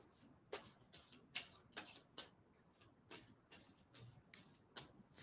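A deck of playing cards shuffled in quick repeated riffles, each a crisp burst, about a dozen in an irregular rhythm, close by and alone without voices.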